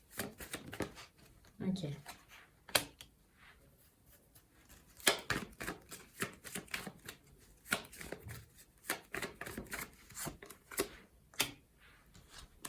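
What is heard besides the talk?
tarot cards being shuffled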